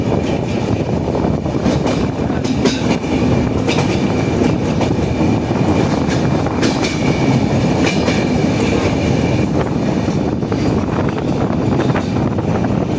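Araku passenger train crossing a bridge, heard from on board as a loud, continuous rumble with rhythmic clickety-clack of wheels over rail joints and wind buffeting the microphone throughout.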